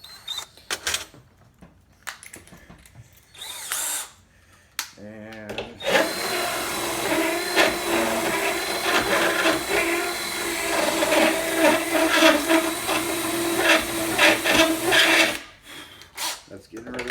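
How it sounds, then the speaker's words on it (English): A drill fitted with a router bit grinds out the wooden door frame for a French door strike plate, a loud, continuous whirring, rasping cut lasting about ten seconds, with brief speech and handling noises before and after. "So that wood needs to be routed out, which I have a router from my drill here just for that."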